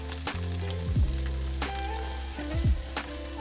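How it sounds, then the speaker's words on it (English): Onions tossed into hot oil in a pan for a camping breakfast give a loud, steady close sizzle, with a few sharp scrapes and clatters of a utensil and no talking. "Oil's nice and hot. We're going to throw in our onions."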